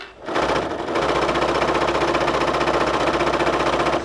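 A sewing machine starts up and runs fast at full pedal, a loud, close, rapid even stitching chatter that continues without pause and with no speech.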